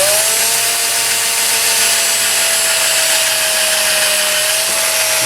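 A drill with a 1/16 inch bit bores down through a gun toward the trigger cavity, giving a loud, continuous high-pitched whine that holds steady for several seconds without pause.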